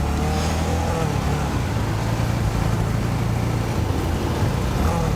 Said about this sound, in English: You can hear the revving I have to do to keep it open.